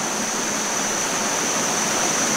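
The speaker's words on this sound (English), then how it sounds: "you just clip lock it and the water starts flowing" Water streams steadily through a Platypus GravityWorks 2.0 L gravity filter hung from a tree, a continuous close, even hiss of flow with no talking.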